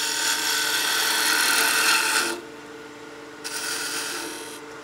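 A skew chisel takes a peeling cut on a wood lathe, sizing a tenon on a turned baby rattle: a bright, hissing scrape that stops abruptly, leaves the lathe's low hum, then resumes.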